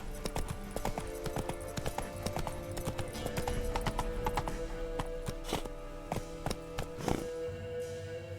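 A video game horse named Roach clip-clops along in a steady rhythm of hoof taps, fairly faint, with a few sharper knocks later and no talk.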